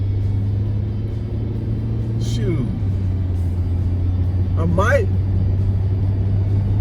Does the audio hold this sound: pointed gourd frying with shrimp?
no